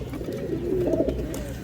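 Pigeons in a loft, including a large female, cooing softly nearby, a short low rolling coo over a quiet background.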